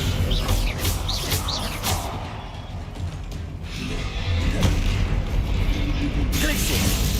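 Spell effects in a Harry Potter video game as the Descendo spell is cast: several loud, booming bursts and crackling impacts over a steady rumbling backdrop, running throughout.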